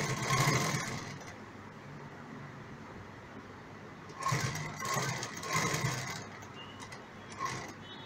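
A sewing machine stitches a shoulder bag, whirring in steady bursts with short pauses between runs, fairly close and with no one talking.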